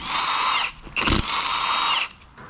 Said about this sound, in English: We're gonna also remove this oil pump, T50 Torx.